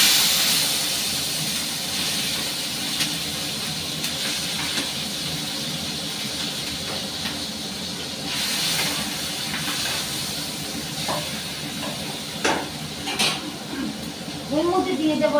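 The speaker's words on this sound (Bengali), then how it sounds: "এখন চিংড়ি মাছটা কড়াইয়ের মধ্যে দিয়ে দিচ্ছি" Shrimp dropped into smoking hot oil in a wok sends up a loud, hissing sizzle that stays steady throughout with a few sharper bursts, while a person talks over it.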